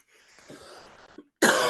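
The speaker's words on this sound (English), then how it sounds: "Oh man, I got a barking cough." A harsh barking cough bursts out once, loud and close, after a stretch of quiet breathy throat noise.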